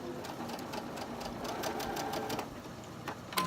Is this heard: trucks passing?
no